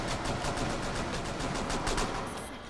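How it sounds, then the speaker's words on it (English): Rapid hip-fire gunshots from a video game crackle in a dense, continuous burst of sharp reports, loud and close throughout, tapering slightly at the end. "I love hip firing in this game"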